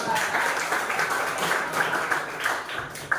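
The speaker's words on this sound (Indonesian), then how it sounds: "Oke, tepuk tangan kita semua." A school class applauds in a continuous wash of clapping, moderately loud and fairly close, over a few seconds.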